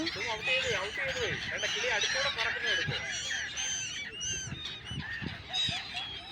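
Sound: birds honking near water

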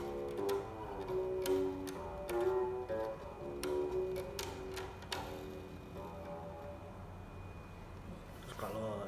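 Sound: unplugged fretless bass with round wound strings

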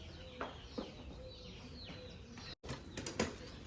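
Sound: pigeons flapping wings in flight

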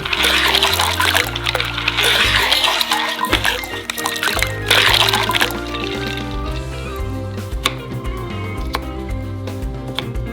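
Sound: ice poured into water

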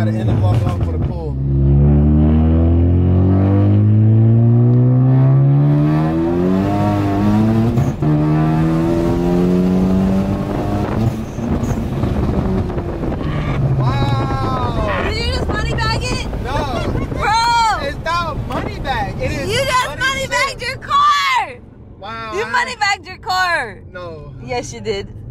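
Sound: Stage 2 Ford Focus ST on E85 accelerating hard

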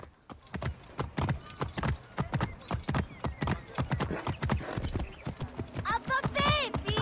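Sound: horse galloping in Assassin's Creed Origins video game

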